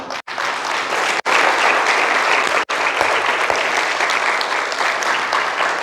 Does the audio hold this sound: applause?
yes